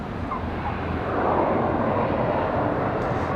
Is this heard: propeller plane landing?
yes